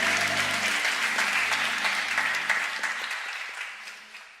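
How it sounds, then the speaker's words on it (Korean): A church congregation breaks into a few seconds of warm, even applause that fades out toward the end, with no voices over it. "영광의 박수 올려드립시다"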